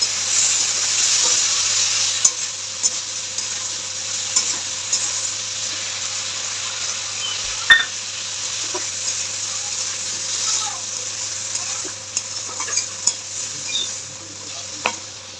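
A paste of ground ginger, mustard and poppy seed fries in a pan, a steady soft sizzle broken by occasional scrapes and clinks of stirring, close and moderately quiet throughout.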